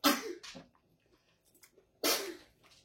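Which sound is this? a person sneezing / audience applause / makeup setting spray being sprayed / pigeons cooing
a person sneezing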